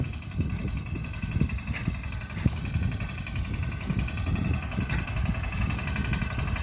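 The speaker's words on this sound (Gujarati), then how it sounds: "ભાગ્યાને ટ્રેક્ટર ફાવે, મિની ટ્રેક્ટર એટલે હાકી નાખે." A mini tractor works a cotton field, its engine chugging in a steady, busy mid-range rumble with small bumps and knocks, close and fairly loud for the whole stretch.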